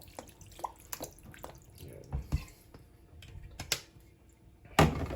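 Fish for kinilaw rinsed under running water at a sink, with soft splashing and intermittent drips and clunks, a louder burst of water near the end; quiet and close, with no talk.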